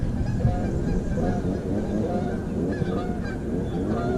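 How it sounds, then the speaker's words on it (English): Geese honk repeatedly at a lake in Gadsden, Alabama, a busy flock calling over one another at moderate distance. "Lots of geese."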